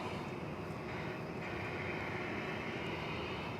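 An airliner arriving from Denver at DFW Airport at night, its steady engine roar broad and sustained throughout, fairly distant and even in level with no voices.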